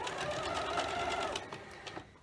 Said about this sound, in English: Now I'm going to sew a scant 1/4 inch on both sides of that drawn line to create these half square triangles